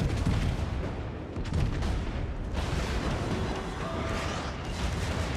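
Tank guns fire in a video game battle, with repeated heavy booms and rumbling bursts over a dense continuous din of combat noise, loud and close throughout.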